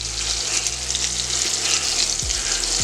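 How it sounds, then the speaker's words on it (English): Butter sizzling and frying steadily on a hot steel griddle as burger buns toast on the back, a close, continuous crackle without speech. "We're gonna go ahead and toast our buns back here. On the back, I got a little butter set down."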